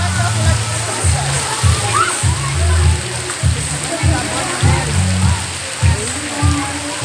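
Children splash and slosh in heavy rain while bathing outdoors, with steady rainfall and water sounds close by and children's voices shouting and talking throughout.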